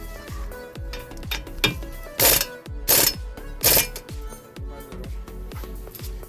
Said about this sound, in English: we're just gonna go ahead and drive it in, and it should pull that stud right through